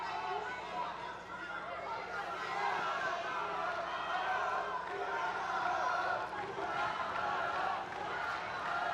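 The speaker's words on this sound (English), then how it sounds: "The hometown crowd here really get behind Matheus Gabriel" A hometown crowd roars without pause through a tied grappling match at the 2021 World Championship. The dense chatter and shouting of a large indoor audience stays loud and steady.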